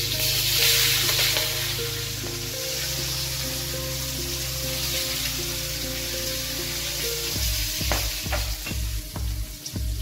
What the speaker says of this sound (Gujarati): વટાણાને થોડી તળતા વાર લાગે